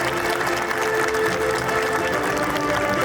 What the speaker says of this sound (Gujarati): આપણા પરિવાર માટે હવે બધા માટે એકવાર સમૂહમાં જોરદાર તાળી થઈ જવી જોઈએ